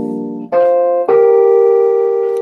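Piano chords from a song played with the sustain pedal down, three loud sustained chords in quick succession, each ringing into the next.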